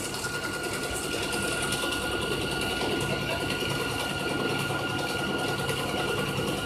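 A sewing machine stitching fabric for a dress as the feed dogs pull it through, a fast steady mechanical whir with rapid clicking that runs continuously, close and fairly loud.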